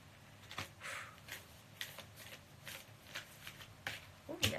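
Tarot cards are shuffled by hand, giving a close, quiet series of soft riffling and slapping bursts at an irregular rhythm, with a sharper clatter near the end as cards fly out. No one speaks.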